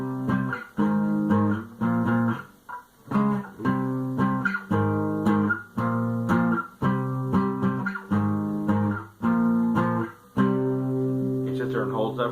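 Electric guitar plays a riff, chunky rhythmic chord stabs in repeated bursts with short pauses, ending in a brief lick.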